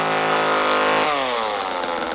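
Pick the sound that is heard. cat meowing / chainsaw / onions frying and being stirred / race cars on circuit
chainsaw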